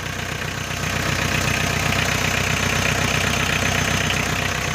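A diesel engine with blowby smoking from the dipstick hole idles close by in a steady, loud, rhythmic clatter that holds unchanged throughout.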